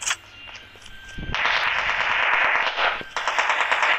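Sustained automatic gunfire in a Call of Duty Mobile battle royale match, a long loud burst starting after a quieter stretch, breaking briefly and then resuming.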